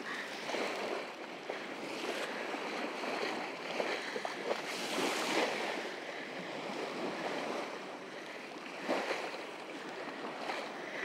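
Sailing boat in the Bristol Channel pushing through waves, loud repeated splashes and rushing water over steady wind noise, with bursts of spray every few seconds.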